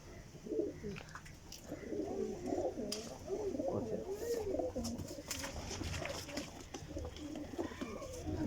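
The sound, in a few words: pigeons cooing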